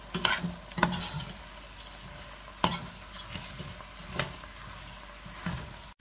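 A spoon stirs vermicelli and chicken in a pot over very low heat, with soft scraping strokes and a few sharp knocks against the pot rim amid a faint sizzle, recorded close with no talking.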